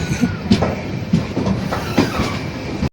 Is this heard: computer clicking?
no